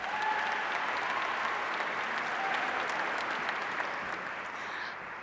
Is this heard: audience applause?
yes